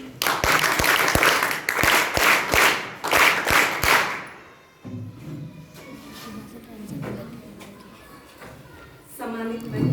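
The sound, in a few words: applause, audience clapping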